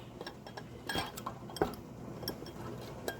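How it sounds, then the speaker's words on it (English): Metal lids being set onto glass canning jars of praline syrup: a scatter of quiet, close clinks and light taps in an otherwise calm kitchen. "So we've got the lids on the jars"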